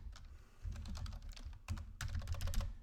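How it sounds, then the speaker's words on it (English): Fingers type on a computer keyboard in quick bursts of clicky keystrokes, close and fairly quiet, pausing briefly before another dense run of taps. "Notice I started typing the manufacturer."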